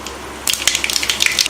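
Mustard seeds hit hot oil and set off a sudden sizzle with sharp little crackles and pops, close and fairly loud, after a brief quiet start.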